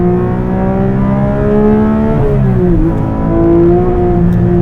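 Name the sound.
sports car engine revving at high RPM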